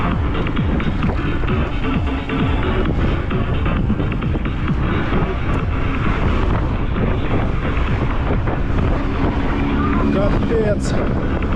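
Strong wind in Crimea near Feodosiya in March, roaring steadily and loudly across the microphone as a constant buffeting rumble throughout.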